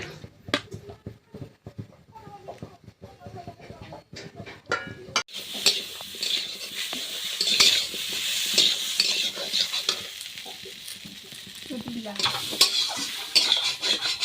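Fish and taro curry, made with rupchand fish, fries and is stirred in a pan: light clinks and taps at first, then a steady close sizzle with repeated scraping strokes of the spoon, no talk.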